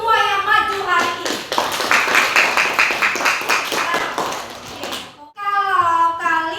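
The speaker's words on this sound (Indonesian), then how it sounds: "Beri aplaus untuk semua yang maju hari ini" Students clap together for classmates who presented in class, a dense burst of applause lasting several seconds. Children's voices chatter before and after it, and the clapping stops briefly near the end.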